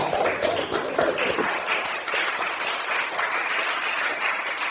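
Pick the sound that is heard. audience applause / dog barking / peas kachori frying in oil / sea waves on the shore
audience applause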